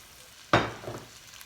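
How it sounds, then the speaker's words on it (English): Chopped celery, jalapeno and orange pepper dropped into a hot pan for a vegetable hash, giving a sudden loud sizzle that quickly settles into a softer, crackling fry. "I'm adding the celery, the jalapeno, and the orange pepper now."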